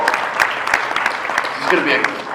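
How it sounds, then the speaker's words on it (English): An audience at a Hall of Fame induction ceremony claps steadily for a speech, with dense, moderately loud applause and voices talking over it. "can we clap for her speech?"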